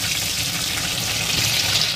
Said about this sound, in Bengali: এটাকে একটু ভালোভাবে তেলে ফ্রাই করে নেব।